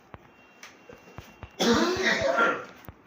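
A single loud cough burst, about a second long, erupts mid-clip in a hospital room, set between soft scattered taps and clicks, fairly close.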